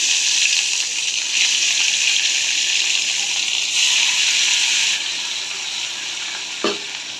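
Rohu fish pieces frying in hot mustard oil, a loud, continuous close-up sizzle that eases slightly partway through, with one brief knock near the end.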